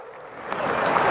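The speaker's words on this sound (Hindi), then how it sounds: "ठोको ताली" A crowd at a political speech breaks into applause, a rising wash of many hands clapping that swells steadily over the brief moment, without voices on top.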